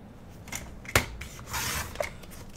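A large paper cutter trims the edges off a sheet of paper: a sharp click, then a short scraping slice and another small snap, all close and fairly quiet.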